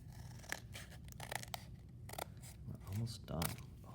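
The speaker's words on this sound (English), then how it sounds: "We'll cut down the line." Scissors snip through paper while cutting flip book pages, a few short crisp cuts mixed with paper rustle under ongoing talk.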